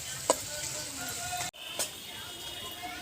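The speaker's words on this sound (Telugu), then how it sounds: "ఉల్లిగడ్డ వక్కలు ఇట్లా మంచిగా గోలాలి" Onion and tomato pieces with kasuri methi stirred in a frying pan for keema curry, a steady broadband sizzle with two sharp spatula scrapes against the pan.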